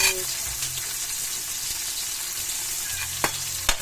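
Tomatoes being sautéed and stirred in a pan for a coconut-milk green papaya and shrimp dish, giving a steady close sizzle with a few sharp utensil clicks near the end.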